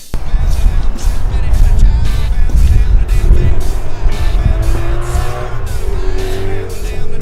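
A Jeep built as a Warthog replica with a Hemi V8 drives close by, its loud engine rumbling steadily with rising revs and some tire noise throughout.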